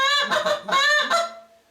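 Moaning honks from a goose call, three to four drawn-out, wavering notes in quick succession, close and loud, fading at the end with no talk.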